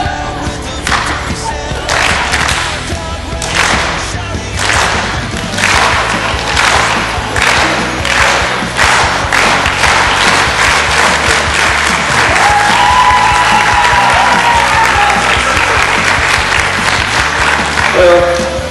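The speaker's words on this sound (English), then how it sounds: "as you guys start settling down from your applause" An audience at a graduation ceremony applauds in a large room, keeping up loud, sustained clapping throughout with no talk over it.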